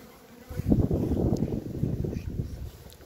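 Honeybees hum in a steady, fairly loud buzz during the transfer of a colony into a new hive fitted with a pollen trap, rising and holding close to the microphone with faint handling noises.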